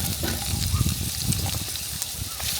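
Meat sizzling in hot olive oil in a pot at a campsite, a steady crackling hiss with scattered pops, close and moderately loud, with no speech over it.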